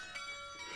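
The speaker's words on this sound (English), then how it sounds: "6 bells that are rung in the same way as those in churches and cathedrals." A portable ring of six change-ringing bells, a chamber ring with relatively large bells and wheels rung the way church and cathedral bells are, strikes with bright overlapping tones that hang and ring on through a short stretch.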